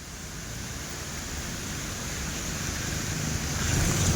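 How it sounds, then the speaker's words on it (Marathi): Water pours over a small overflowing dam in the Lonavala ghat, a continuous, fairly faint rushing roar that grows slightly louder toward the end, with no voices. "छोटासा बांध आहे, त्याच्यावरनं पाणी एकदम ओव्हरफ्लो झालेलं आहे आता."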